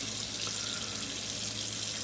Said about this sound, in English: so I gotta keep rinsing to get a clean rinse